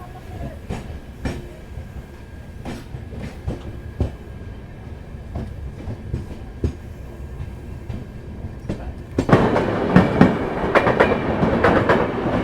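Sealdah Rajdhani Express (Sealdah–New Delhi) rumbling past a station platform near a footover bridge, steady rolling noise with rhythmic wheel clacks, then growing louder and busier as the coaches sweep close by.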